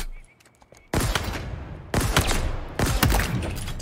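The Mangler sidearm firing in Halo Infinite multiplayer beta weapon drills, three heavy separate shots about a second apart, each loud with a long ringing tail, after a quieter stretch with brief voice.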